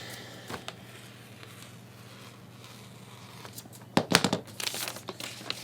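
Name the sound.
cutting a paper shirt pattern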